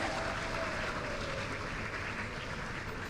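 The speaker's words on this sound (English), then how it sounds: "A round of applause." A dense, continuous round of applause fills a conference hall for realtors and construction partners, many hands clapping at once in a steady, fairly loud wash for a few seconds.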